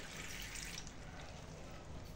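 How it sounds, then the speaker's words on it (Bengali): Water poured from a mug into a pot of cauliflower, cabbage and salt set to boil, a steady close splashing rush that runs unbroken and fairly loud for the whole stretch. "2 মগ পানি দিয়ে নিচ্ছে।"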